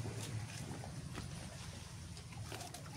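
Strong wind blowing steadily at the seashore, a continuous broad roar with gusty buffeting against the microphone, faint and distant-sounding, with no voices.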